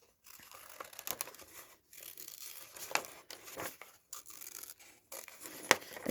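Scissors cut paper from a secret windows kit up close. Quiet snips and crinkly rustles come in irregular bursts with brief silences between them.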